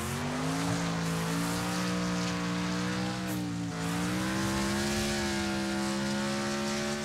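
Several race cars in Wreckfest roar in a steady, continuous engine drone with sustained tonal whine that dips briefly and recovers, loud and close with no talking.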